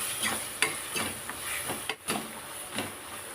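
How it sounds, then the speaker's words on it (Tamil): Masala and tomato sauté in oil over low heat for a siru kizhangu and fresh mochai gravy, with a soft sizzle under repeated spatula scrapes and stirring taps against the pan, close and unvoiced. "நல்லா எண்ணெயில் ஒரு வதக்கி விட்டுருவோம்."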